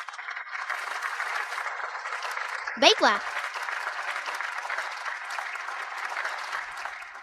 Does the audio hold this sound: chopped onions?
no